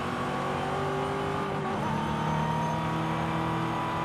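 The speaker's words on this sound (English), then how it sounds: "I do like how the different cars kind of sound different" A Chevrolet Camaro engine in Forza Horizon 5 drones steadily at high revs, a loud continuous racing-game engine tone that shifts pitch slightly partway through, with no talking.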